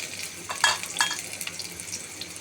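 Chopped onions frying in hot oil in a wok, giving a soft, steady sizzle with a couple of sharper stirring scrapes, close and fairly quiet.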